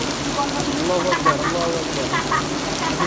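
Heavy rain pours down outside near Gulistan's volleyball stadium in Dhaka, a steady dense hiss with no break and scattered brighter drops on top, close and fairly loud. People talk faintly in the background.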